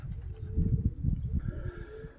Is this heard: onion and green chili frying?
no